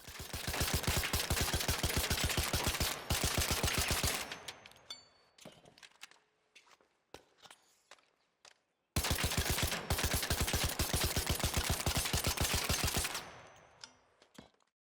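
Kettle weapon in the ARC Raiders video game, fitted with a green muzzle brake and vertical grip, fires two long, loud, rapid sustained bursts, each ending in scattered clicks and brief quiet before the next volley.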